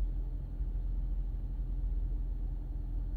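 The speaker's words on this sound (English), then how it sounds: "Heard a big truck." Big monster truck engine rumbling at a monster truck show, a steady, low, idling drone that holds for a few seconds at a moderate distance with no talk over it.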